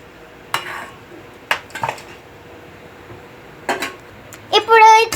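Raw chicken for dum biryani is dropped into a metal bowl, making a few scattered clanks and scrapes over a quiet background, then a voice speaks briefly at the end.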